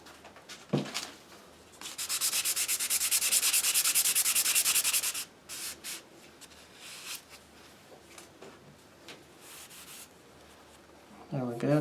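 Hand sanding on a wooden Native American flute rasps in a rapid back-and-forth burst for a few seconds, followed by shorter scattered rubbing strokes and brief handling noises.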